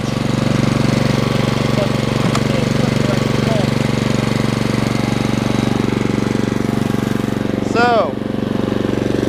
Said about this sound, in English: that's my brand new mower